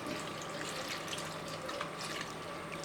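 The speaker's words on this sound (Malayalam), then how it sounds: "ഇനി നമുക്കിത് വേഗത്തക്ക രീതിയിലുള്ള വെള്ളം കൂടെ ഒഴിച്ചു കൊടുക്കാം" Water pours steadily into a cooking pot for a taro (chembu) curry, a continuous close splashing rush with no talk.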